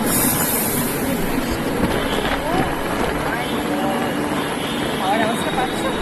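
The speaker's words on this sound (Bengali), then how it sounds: "আর মেট্রো যাচ্ছে জোরে বলছি" A metro train rushes past, a loud, steady broadband rumble and roar that fills the whole stretch while a voice talks over it.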